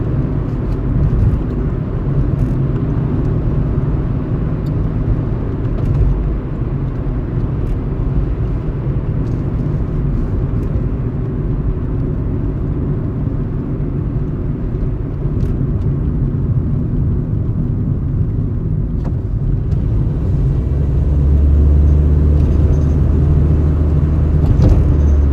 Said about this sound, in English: Oh man, you have a WRX. Step on it. Put that turbo to work